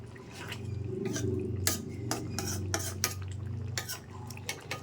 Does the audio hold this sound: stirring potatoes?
yes